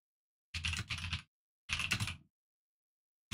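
A mechanical keyboard typed on in two short, dense flurries of clicking keystrokes with a quiet gap between and a third burst just beginning at the end, close and isolated without any voices.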